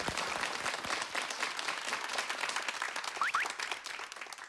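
Studio audience clapping on a Korean variety show, a steady, dense burst of applause lasting several seconds at even loudness, with a couple of short whistle-like chirps near the end.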